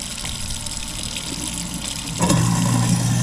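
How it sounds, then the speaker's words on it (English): Water drains through an InSinkerator Badger 1XL garbage disposal under a kitchen sink, a steady hiss that turns into a louder, deeper gurgling rush partway through. "And the water goes down."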